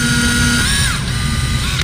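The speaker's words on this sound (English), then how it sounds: "drill a hole right there, because it's going to make life a lot easier to put our hook in there" A power drill bores a hole through an ornament box, a loud close whine that holds steady for about two seconds, then shifts pitch briefly before stopping.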